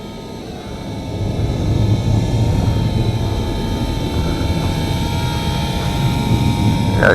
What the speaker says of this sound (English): you can hear those jets when they take off